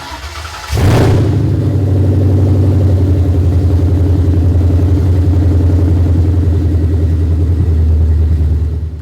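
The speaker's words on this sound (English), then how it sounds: "start the car up." A 1996 Ford Mustang with a Coyote engine swap cranks briefly and fires up, then settles into a loud, steady, rumbling idle close by with no talking.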